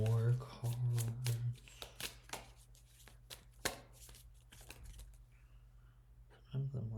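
Tarot cards are handled and shuffled during a pick-a-card reading, giving soft close riffling and snapping card sounds, with talking at the start and near the end.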